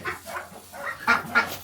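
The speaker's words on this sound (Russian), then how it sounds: "Вот тут гуси живут." Geese at a farm honk and cackle in short, repeated calls, fairly close and clear over a quiet background.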